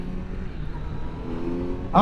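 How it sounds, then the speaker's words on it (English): A Kawasaki Z900 motorcycle's exhaust note while riding, a steady low engine drone under wind rumble, with a louder burst at the very end and no talk. "it's got a really good exhaust note"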